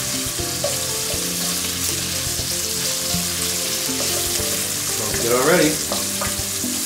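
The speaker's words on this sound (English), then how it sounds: "Careful with the splatters with the bacon." Bacon and whole skin-on garlic cloves frying in a pan, spitting and splattering in a loud, dense crackle that runs the whole time, with a voice speaking briefly over it and a short whistling squeal toward the end.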